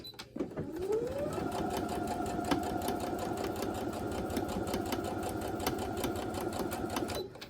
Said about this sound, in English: here we are back at the sewing machine